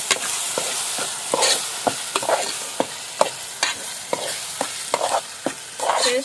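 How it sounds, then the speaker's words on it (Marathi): Prawn masala paste fries in oil in a pan over a wood-fired stove, with a steady sizzle cut by regular scraping strokes of a spoon as it is stirred, close and fairly loud. "व्यवस्थित भाजून घ्यायची तेलात."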